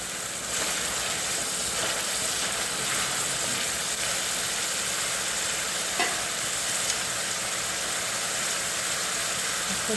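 Chopped onion frying in a pan with salt, being prepared for a dry soybean vegetable dish; a steady close sizzle runs throughout with occasional stirring scrapes and no talk.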